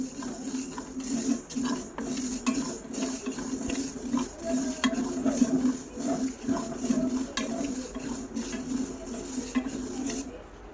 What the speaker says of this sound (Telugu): ఇప్పుడు ఆవాలు వీటిని కూడా స్లో ఫ్లేమ్లో వేయించేసుకోవాలి